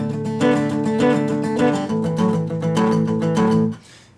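A guitar plays a fast, bouncy shuffle rhythm with steady repeating chords, loud and close, then stops abruptly and rings out.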